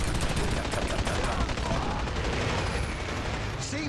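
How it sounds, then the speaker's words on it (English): Dense, loud gunfire from the video game Dirty Bomb, set in a train yard, with rapid automatic bursts blending into a continuous barrage that fills the whole moment without pause. "So I was getting shot at and I don't know where from"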